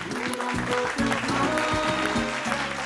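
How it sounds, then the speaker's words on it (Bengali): Studio audience at a family game show applauding loudly and steadily for about three seconds, with a voice heard briefly under the clapping. "জোরে হাততালি"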